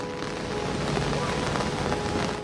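Steady, heavy rain falls continuously in Turin, Italy, during days of flooding, a dense hiss of drops on surfaces filling the scene at close range.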